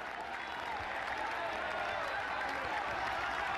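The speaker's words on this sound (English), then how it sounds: "listen to the roar of the crowd" Steady roar of roadside spectators packed along a steep climb at a Basque cycling stage race, a dense continuous wash of cheering and applause with no break for the whole stretch.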